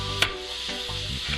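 A spoon stirs mushrooms in a frying pan over medium heat as they caramelize to a brown colour. Brief scraping strokes sound over a steady low sizzle, with one sharper clack near the start.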